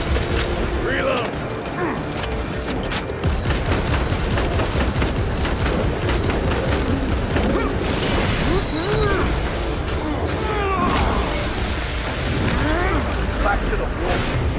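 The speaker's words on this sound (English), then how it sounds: "Reloading weapon." Rapid gunfire and weapon reloading in the Warhammer 40,000: Space Marine 2 video game, a dense, continuous battle din of shots and clatter running throughout, with voices talking over the fighting.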